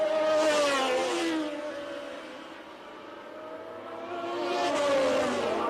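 Formula One cars at the 1981 Brazilian Grand Prix scream past, their high engine whine rising and falling as one car recedes and another approaches. The sound swells loud, dips in the middle, then builds again.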